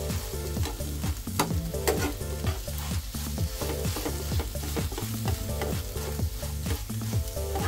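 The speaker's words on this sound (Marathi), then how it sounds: "ह्याच्यामध्ये थोडंसं मीठ टाकायचं आणि हे असं चांगलं परतून घ्यायचं" Salted scrambled egg bhurji being stir-fried in a pan, a soft continuous sizzle with regular spatula strokes and scrapes against the metal, fairly quiet and without talk.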